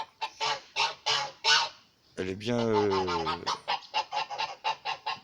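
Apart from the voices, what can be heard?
geese honking at their pond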